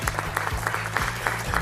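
A studio audience on the French TV game show Motus claps warmly in a steady, continuous burst of applause, with music playing underneath.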